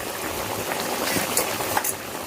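Crab curry bubbling in a pot outdoors at a picnic in the Sundarbans, with garam masala added during the boil, makes a dense, continuous simmering hiss with scattered small pops and splutters, close and steady.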